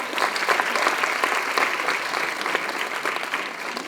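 A college audience claps steadily and loudly, a dense crowd of applause sustained throughout without a break.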